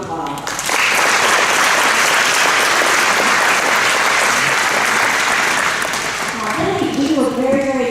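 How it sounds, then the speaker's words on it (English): After a short quiet start, a school audience at a high school academic awards event breaks into loud, sustained applause for choir students, tapering near the end as a voice begins talking. "Please help me in thanking them and give them a round of applause."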